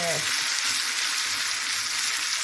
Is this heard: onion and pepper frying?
yes